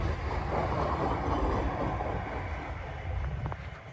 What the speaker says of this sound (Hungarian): Hókotrós vonat.